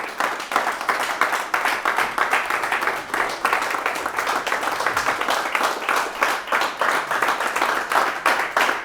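A church congregation clapping rhythmically and cheering during worship, steady loud applause-like beats throughout, with singing or voices mixed in.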